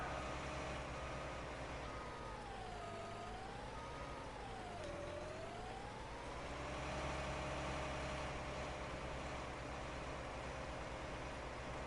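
An old Case Steiger tractor engine in Farming Simulator 19 drones steadily and loudly, a continuous low rumble with a pitch that dips and rises as it works, heard alone.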